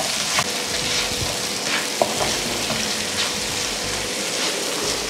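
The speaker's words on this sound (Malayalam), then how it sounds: "നമ്മുടെ സവാള നന്നായി സോട്ടായി വന്നിട്ടുണ്ട്" Onions sautéing in oil left from frying sardines for a sardine roast, a continuous close sizzle with soft stirring scrapes and a sharp tap of the utensil, no speech.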